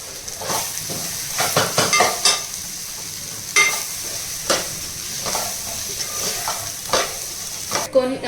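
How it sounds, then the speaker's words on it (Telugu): Cooked rice stirred into a rajma and pudina mixture in a pan, giving a continuous sizzle with irregular scraping and clinking strokes of a spoon, close and fairly loud. "కొంచెం వేసుకొని కలుపుకోండి"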